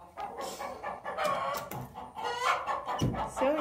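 An olive egger hen squawks and clucks in a nest box, with loud, irregular, close calls that come in bursts and overlap with other hens nearby.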